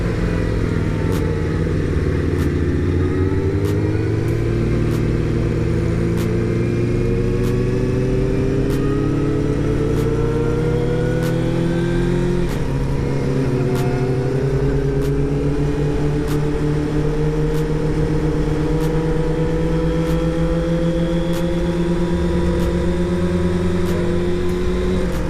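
A motorcycle rides steadily on the road, its engine a loud, continuous drone whose pitch climbs and drops as the rider accelerates and shifts, with wind noise mixed in.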